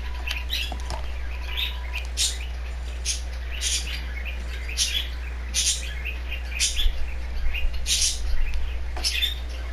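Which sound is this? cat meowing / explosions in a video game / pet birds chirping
pet birds chirping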